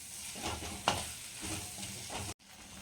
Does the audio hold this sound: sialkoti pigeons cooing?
no